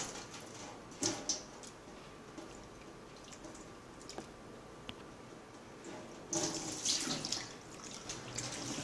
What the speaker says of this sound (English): Wash the black fungus at least twice, then soak in clean water.